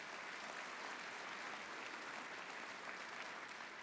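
Steady, dense applause from a large crowd at a military change of command ceremony, continuous and loud throughout with no pauses.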